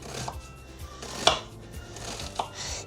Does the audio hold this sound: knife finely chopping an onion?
yes